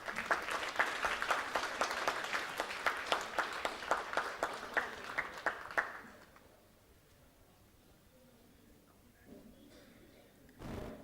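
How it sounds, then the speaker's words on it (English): Applause for an award winner at a medical humanities award ceremony: steady rhythmic clapping from the audience for about six seconds, then fading to near silence with a faint bump at the end. "A big round of applause for Dr. Satendra Singh."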